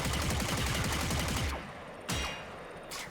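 Rapid automatic gunfire from a buffed, modded Prisma Tetra rifle in Warframe, a dense continuous burst of shots that cuts off, then two short follow-up bursts, loud and close.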